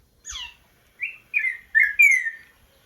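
A black bird with an orange bill singing in a quiet forest, a short run of clear whistled notes: one descending call followed by four rising, slurred phrases, close and distinct against silence.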